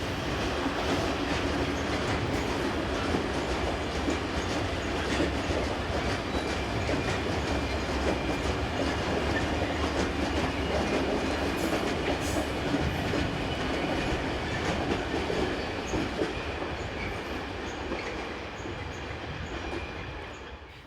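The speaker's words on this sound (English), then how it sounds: "Here number 11604 passes through Brugg." A Swiss Re 6/6 Class 620 electric locomotive passes through Brugg with a loud, sustained rumble of wheels and rail clatter that stays close throughout before easing slightly at the end.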